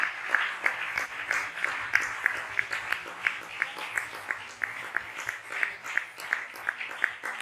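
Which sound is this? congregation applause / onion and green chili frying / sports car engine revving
congregation applause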